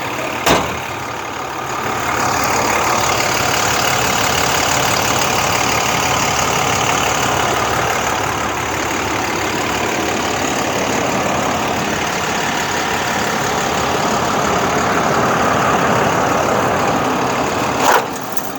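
The large Hyundai engine of a 2012 Hyundai Green City 28-seat bus idles steadily and loudly for the whole stretch, a constant rumbling drone with no talking.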